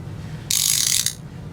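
A ratchet wrench loosens a tight 14 mm seatbelt anchor bolt inside a car, sending out one rapid, buzzing clicking run of about half a second, close and loud against quiet background.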